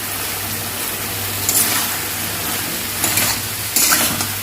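A vegetable curry of katua stalks, ridge gourd, pumpkin and potato cooks in a pan, with a loud continuous sizzle and occasional stirring scrapes.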